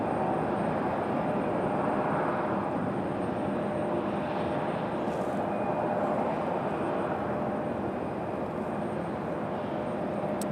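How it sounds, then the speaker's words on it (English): An Airbus A220 airliner departing, a broad, steady jet roar that stays loud and unbroken from start to finish. "Absolutely stunning departure for this A220."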